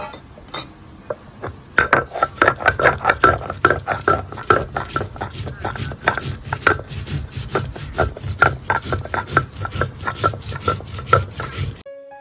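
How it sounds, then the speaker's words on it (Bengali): Mustard seeds, white and black, ground with green chillies on a stone slab: a loud, close, rhythmic rasping scrub of stone on stone, repeated strokes running steadily for about ten seconds before stopping. "এবার বেটে নেবো"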